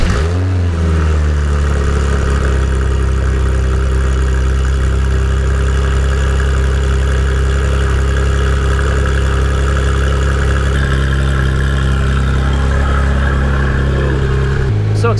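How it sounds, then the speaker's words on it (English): A Porsche GT3 engine fires up from a cold start and settles into a loud, steady, deep idle with a rumbling low drone and slight fluctuations, heard close up for about fifteen seconds. "let's go ahead and get a cold start up. This is a legit cold start."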